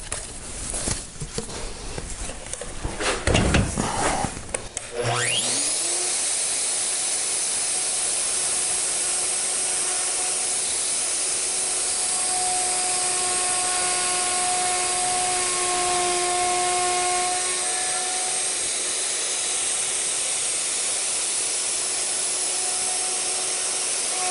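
A Hitachi M12VE router fires up with a brief rising whine, then settles into a loud, steady high-pitched motor scream that holds unchanged, running alone with no talk.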